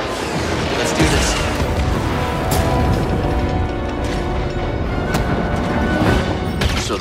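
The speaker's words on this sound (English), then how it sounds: "So those are the blasters." Blaster fire in the video game Star Wars Jedi: Fallen Order, repeated sharp shots and booming impacts over a dense rumbling battle din, loud and continuous, with occasional crashes.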